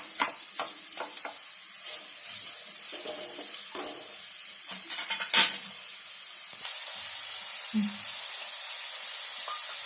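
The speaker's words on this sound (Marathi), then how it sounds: "आता आपण ह्याच्यात हा बारीक चिरलेला कांदा घालणार आहोत" Finely chopped onion goes into two tablespoons of hot oil for a Karwar-style squid masala, setting off a steady bright sizzle that swells and holds, with a few scraping stirs and clicks along the way.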